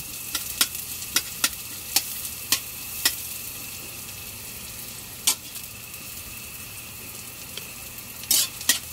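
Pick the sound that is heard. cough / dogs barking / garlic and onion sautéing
garlic and onion sautéing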